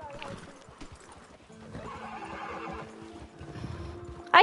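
A horse in the video game Red Dead Redemption 2 lets out a whinny amid clip-clopping hooves, with game ambience and brief talk nearby.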